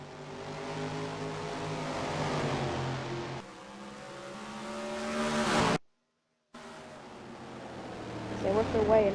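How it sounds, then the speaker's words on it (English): Stock cars in NASCAR Racing 2003 at Richmond drone into turns 1 and 2, a layered pack of engine tones rising and falling steadily, broken by a brief dropout, with a commentator talking over it. "They work their way into the corner. Turns 1 and 2."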